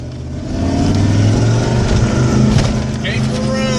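A 1995 Ford F150 pickup with a bad alternator, its engine revving loud and close in a sustained, rising drone, with people talking over it.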